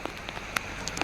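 Moderate rain falls steadily in a short stretch of even hiss, with a few sharper drop taps standing out nearby and no voices.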